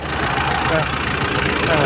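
A Nissan Big-M single-cab pickup truck engine idles steadily with a continuous, loud, rumbling drone and no talk over it.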